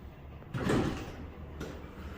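The new sliding door of a former Warren hydraulic elevator in Hicksville, New York, rolls with a soft whoosh and then a second quieter slide, against a low hum, with no talk.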